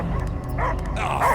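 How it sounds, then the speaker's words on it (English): Dog barking inside the Guardians of the Galaxy video game: a couple of short, sharp yips and barks stand out over a dense game backdrop of low rumble and music. "I hear only barking."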